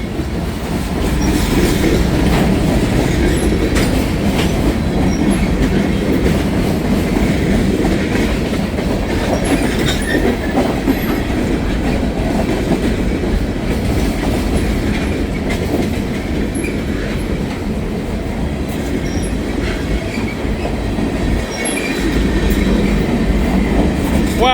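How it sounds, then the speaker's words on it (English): A big freight train rolls past, a loud, steady roar of wheels and cars with rhythmic clatter and faint squeals, close by and continuous throughout. "This is a monster. A big train right here."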